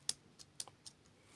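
Key presses on a keyboard paired with a Blackview Tab 12 tablet: four or five quiet, crisp clicks in quick irregular succession, close and faint.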